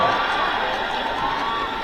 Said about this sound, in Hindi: ताली बजाओ सतीश के लिए